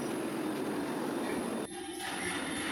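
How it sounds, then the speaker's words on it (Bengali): A train pulls into a station platform with a steady broad rumble and rail hiss, followed by a brief dip and then a continuing lower roll. "প্ল্যাটফর্মে ট্রেন এসে পৌঁছে গেল।"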